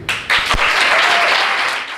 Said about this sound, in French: je souhaite qu'on puisse vous applaudir